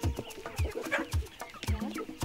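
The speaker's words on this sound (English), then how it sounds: "Lydia has 6 Kenbro chickens. which she's crossing with her 15 local chickens and a few good roosters" Kenbro and local chickens clucking close by, a steady run of short repeated clucks with a few squawky notes mixed in.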